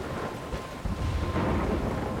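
Rolling thunder with a rain bed from a game thunderstorm in Max & Chloe's Excellent Adventure, a broad low rumble that swells louder about a second in and holds for the short stretch.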